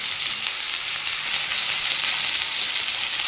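Bottle gourd greens sizzle steadily in a hot pan, an unbroken, close, bright frying hiss with light stirring and no voices.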